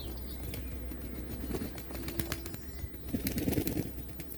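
Pigeons bathe in water nearby, with soft scattered splashes and bursts of wing flapping that pick up toward the end, heard faintly at close range.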